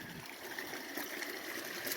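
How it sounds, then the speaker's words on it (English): Meltwater from late snow trickling along a high mountain trail at about 11,000 feet on Mt. Evans, a faint, steady babbling under light background hiss, no talking. "has water running along it, which is no surprise given, as I said, the late snows"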